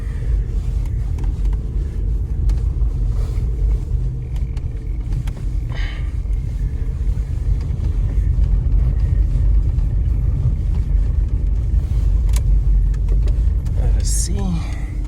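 VW Golf mk4, about twenty years old, driving on the road: a steady low engine and road rumble fills the cabin throughout, with a driver talking over it.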